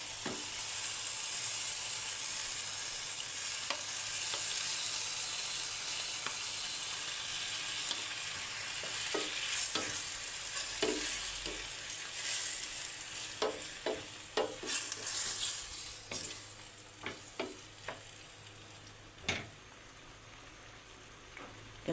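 Fresh squid for squid adobo hits a hot pan and sizzles loudly with a bright frying hiss, then settles into crackling pops and stirring scrapes as the sizzle gradually fades, close up with no talking.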